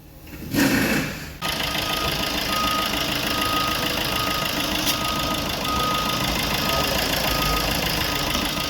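A Fiat 1.3 Multijet diesel car engine idles steadily and close up, with a brief louder rustle near the start before the even engine drone settles in, no talking.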